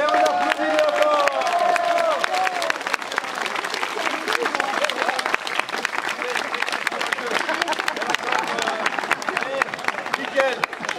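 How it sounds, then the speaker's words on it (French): Audience applauding at a French stage show, loud rapid clapping from many hands filling the space, with voices calling out over the start before the clapping settles into a steady dense roll. "Et on applaudit encore."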